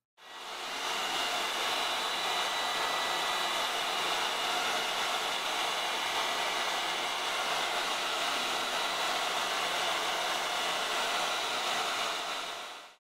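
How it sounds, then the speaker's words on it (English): A heat gun runs steadily for about thirteen seconds, heat-setting a finished Ceracolors wax painting. It is a continuous, even airy roar with no talk over it. "Now that I'm done heat setting the final painting"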